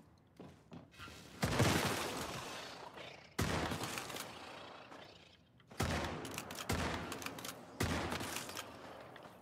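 Video game shotgun blasts, five or six loud sharp booms spaced irregularly, each trailing off in a ringing decay, with a quick rattle of smaller shots at the start.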